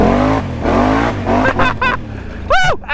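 A four-wheeler ATV engine revs hard through mud in repeated loud, rising bursts of acceleration, nearby and dominant, with whoops and chatter from riders mixed in.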